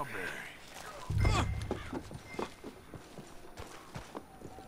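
Horse hooves clip-clop in Red Dead Redemption 2, a steady walking rhythm of soft, fairly close hoofbeats starting after a brief low thump, with a voice talking over the game sound.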